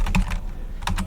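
Close keystrokes on a computer keyboard while a git command is entered, a few quick taps, a brief pause, then more taps ending in a firmer key press.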